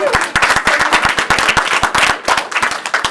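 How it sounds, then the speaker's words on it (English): Audience at a convention Q&A session applauding a guest actor, close and loud clapping with sharp distinct hand claps in an uneven rapid rhythm, with scattered crowd noise. "So we'll applaud again for"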